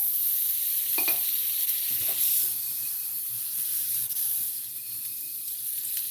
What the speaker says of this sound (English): You want to hear a sizzle?